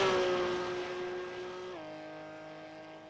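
A Porsche race car engine in a GT3 racing video game hums with a steady tone, drops in pitch once as it shifts, then carries on while gradually fading.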